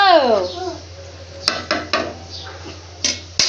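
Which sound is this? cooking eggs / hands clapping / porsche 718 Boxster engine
cooking eggs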